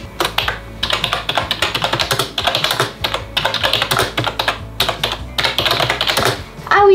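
Typing on a cute wireless computer keyboard: rapid, close, crisp clicking keystrokes in uneven bursts with short pauses, loud and alone.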